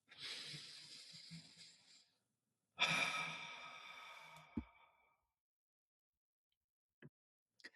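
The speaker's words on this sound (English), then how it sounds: "Take one slow breath." A single slow breath, a long airy inhale followed after a short pause by a longer, breathy exhale, close and quiet, with a faint tap near the end.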